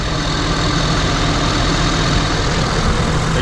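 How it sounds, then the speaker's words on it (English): A diesel truck engine idles in a steady, loud, low rumble that holds evenly from start to finish, with no voices over it. "Of a diesel engine,"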